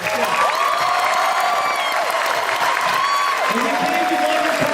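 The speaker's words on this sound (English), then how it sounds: "the applause sounds so good" Audience at a WonderCon 2009 panel for the Terminator Salvation cast applauds loudly and steadily, with cheers and whoops rising over the clapping throughout.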